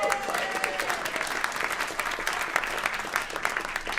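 Applause at a live Christmas Carol radio drama performance, a crowd clapping in a dense, slightly uneven patter of many hands, moderately close and continuous from start to finish.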